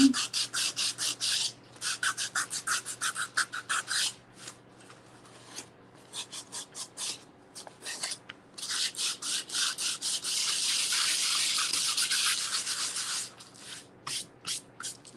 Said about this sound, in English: I should have sanded this one before I Mod Podge. It's not sanding down the way I want.